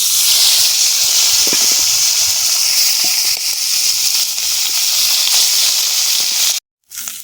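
Live singi fish fry in hot oil, giving a loud, steady hiss and sizzle close at hand that drops out briefly near the end, with no voices.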